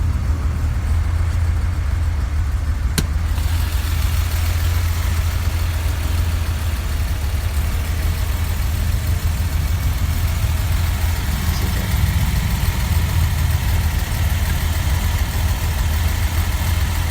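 Engine of a 1971 Datsun 240Z left running at idle, an even, loud low-pitched drone that stays steady from start to finish, recorded close with no speech.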